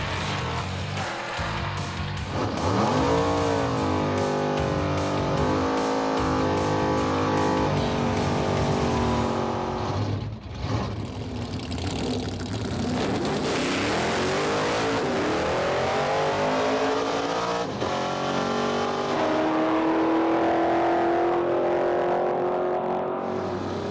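A drag racing car on the strip launches and revs hard through the gears, its loud engine roaring up in pitch, briefly cutting out, then pulling again in a long sustained howl.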